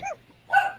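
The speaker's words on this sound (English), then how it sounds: "excuse my dog barking" A dog indoors gives two quick barks, a short yip followed by a slightly louder bark, close and alone.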